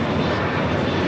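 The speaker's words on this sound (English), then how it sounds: "This is Alaska Airlines 1035 taking off to Puerto Vallarta on a 737-800." An Alaska Airlines Boeing 737-800 takes off at Los Angeles International Airport, its engines producing a loud, dense, continuous roar that fills the brief moment without a break.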